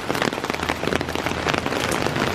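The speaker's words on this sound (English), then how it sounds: "Right now it's raining out here, it's going crazy." Heavy rain pours down outdoors beside a Honda S2000 being fitted with a widebody kit, a loud, dense, continuous patter of drops hitting surfaces close by with no talking.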